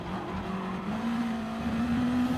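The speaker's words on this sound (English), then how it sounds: "As he spins right behind us and another car spins, so 2 cars into the wall" In Gran Turismo Sport, Gr.2 race cars spin at the last corner of the Red Bull Ring and two slide into the wall, heard as a sustained engine drone with rising tire squeal and skidding, loud and close.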